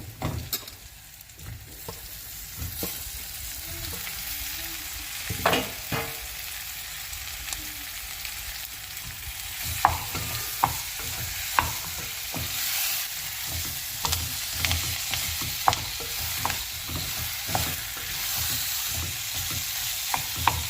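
Ingredients fry in a pan with a steady close sizzle, while frequent sharp scrapes and knocks of a stirring spoon punctuate it, growing busier in the second half.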